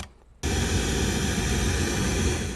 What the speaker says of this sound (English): what you're listening to is mono pink noise, which represents audio in nature